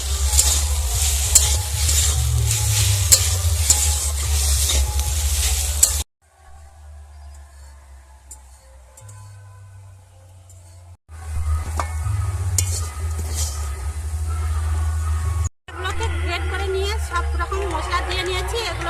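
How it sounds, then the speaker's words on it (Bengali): Bitter gourd being stirred with turmeric and chili powder in a hot pan, a loud sizzle with scraping stirs in bursts, briefly quieting and then resuming, with some low background noise between. "একটু হলুদের গুঁড়ো দিয়ে দেবো অল্প একটু লঙ্কার গুঁড়ো দিয়ে সব একসঙ্গে মিশিয়ে নেবো"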